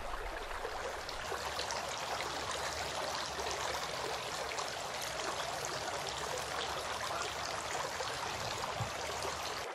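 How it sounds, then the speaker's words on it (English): Water runs in a steady, even trickling stream while the nose is rinsed during ablution before prayer, faint and continuous throughout with no voices. "Rinsing the nose."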